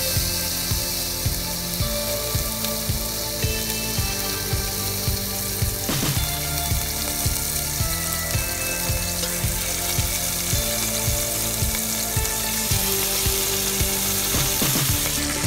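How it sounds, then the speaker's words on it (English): Steady, dense sizzling of chicken thighs browning in hot oil in a pan fills the whole stretch, with a mechanical rattling hum running underneath. "Now that our oil's heated, we're gonna enter our chicken thighs into the pan"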